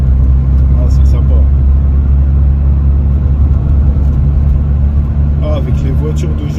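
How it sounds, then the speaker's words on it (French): Inside a Peugeot 106 S16 at speed, a steady loud low engine drone and road rumble fill the cabin with constant vibration, with faint voices briefly over it. "Ça fait du bruit, ça vibre."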